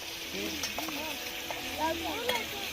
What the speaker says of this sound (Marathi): मिठामध्ये परतावून घेतोय कांदा